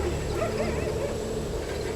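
Street dogs bark and whimper near a rickshaw in a village, short excited yelps close by over a low hum.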